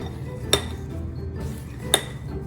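Utensil clinks against a bowl while yogurt and flour are mixed into naan dough, two sharp clear taps over a quiet soft background of stirring.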